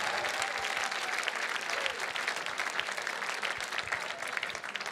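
A crowd at an outdoor-organization fundraising gala breaks into sustained applause, a thick continuous wash of clapping with a few faint cheers mixed in, fairly loud and unbroken.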